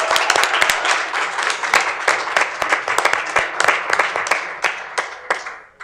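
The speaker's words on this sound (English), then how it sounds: "Let's give a big round of applause." Loud, close applause for teachers and faculty at a school board meeting, many sharp overlapping claps in a lively burst that dies away at the end.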